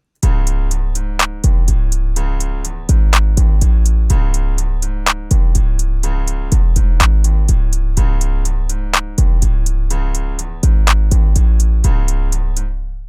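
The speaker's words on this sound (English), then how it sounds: "the 808 has a punchier feel with the compressor" Deep, heavy 808 bass hits, distorted and compressed, pound in a repeating pattern under sharp percussive clicks in a loud beat.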